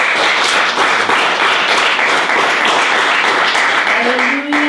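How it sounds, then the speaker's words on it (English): Worshippers at a church homegroup service clap their hands together, a dense ongoing patter of clapping with some voices mixed in and a brief vocal tone near the end. "let's clap our hands for Jesus Christ."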